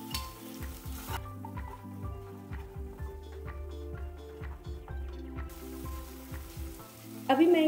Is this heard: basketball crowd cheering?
no